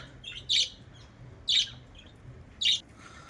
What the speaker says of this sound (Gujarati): છે પોપટ